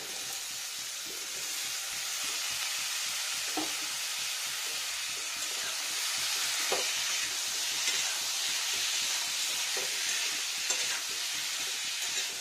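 Raw potatoes, cut into medium and long pieces, frying in a pan for a vegetarian potato, pea and paneer curry: a steady, even sizzle with occasional soft stirring clicks, close and fairly quiet, no voices.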